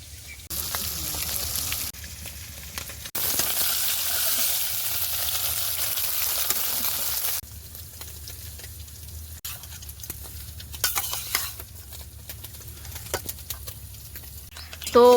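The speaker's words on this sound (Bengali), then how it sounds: "আর এই পুঁটি মাছ ভেজে রাখছি অল্প করে" Small puti fish fry in hot oil with a steady, fairly quiet sizzle and patter that swells louder in bursts and then settles, with faint background noise between.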